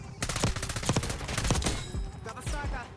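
Rapid automatic gunfire in the Black Ops 6 video game rattles in dense, loud bursts for about three seconds, layered with overlapping shots and game effects.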